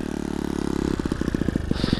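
A scooter engine revs up, its steady idle breaking into quick, loud, sputtering pulses as the throttle opens.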